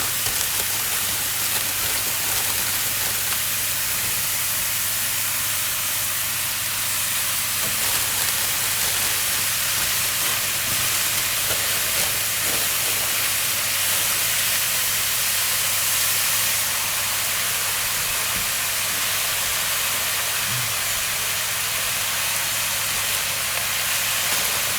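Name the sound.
mushrooms and spinach frying in a pan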